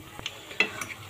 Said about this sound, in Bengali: এগুলোকে কিন্তু অল্প আঁচে ভাজতে হবে